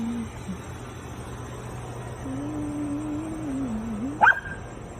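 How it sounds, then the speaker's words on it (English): At night in the woods, a dog lets out a single short bark near the end, preceded by a long thin whine, all over steady background hiss. "What you barking at?"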